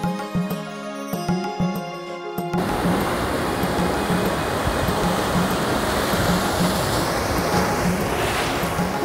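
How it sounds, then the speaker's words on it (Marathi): Sea waves crash onto black rocks behind Kunkeshwar temple on the Konkan coast, a loud continuous roar of surf that takes over after a short passage of music at the start. "कुणकेश्वराच्या मंदिराच्याच मागच्या बाजूला सुंदर असा काळा खडक आहे आणि त्याच्यावर समुद्राच्या मस्त लाटा धडकतात"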